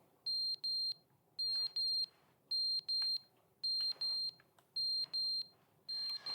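Repeated electronic alarm beeping in The Stanley Parable, sharp paired high-pitched tones sounding in a steady on-off rhythm over a low background hum, loud and with no one talking.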